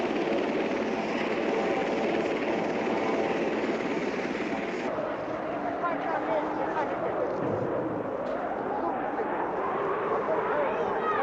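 A Coast Guard helicopter roars steadily throughout, its rotor noise loud and continuous, with a shift in pitch partway as it moves.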